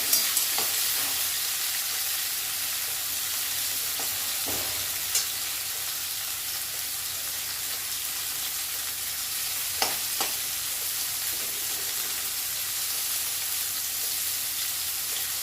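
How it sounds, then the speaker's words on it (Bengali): Bitter gourd slices fry in a pan with a steady, close hiss of oil, and a few sharp stirring clinks and scrapes break through now and then. No one speaks. "এবার উচ্ছেগুলো ভেজে নেব।"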